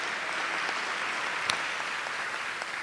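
Applause from the audience at a university awards ceremony for an outstanding student, a steady, moderately faint patter of many hands with one slightly sharper clap standing out midway.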